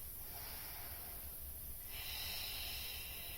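One deep breath taken during a gentle lower-body Pilates exercise, a soft, steady airy hiss that changes tone partway through, faint and close, with no talking.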